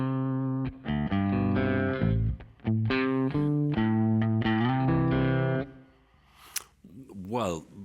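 Baritone electric guitar riff played through a Kemper Profiler with effects, a run of sustained, rhythmic chords and notes that stops around six seconds, followed by a few quieter swelling, wavering effect tones.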